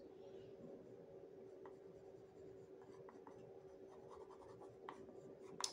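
A pencil draws on paper while sketching a face, a soft continuous scratchy stroking sound with small irregular taps, close and quiet with no talk.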